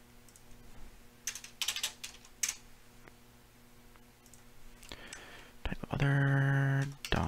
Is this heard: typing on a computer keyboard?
yes